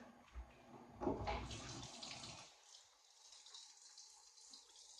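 Water runs from a tap over a part being rinsed in a sink during cleaning, a faint, fairly close splashing that gets busier for a moment and then settles into a softer trickle.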